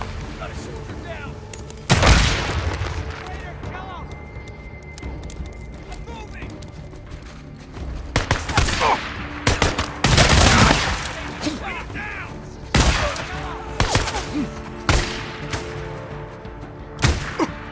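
Gunfire in the video game Days Gone crackles in repeated bursts and single shots, some loud and close, others scattered, mixed with the game's ambient sound and shouted dialogue.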